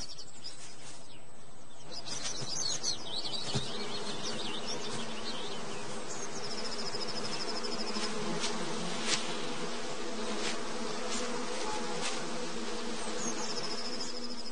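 Bees and wasps buzz steadily in a summer forest, a continuous insect drone close by with occasional faint bird calls in the background.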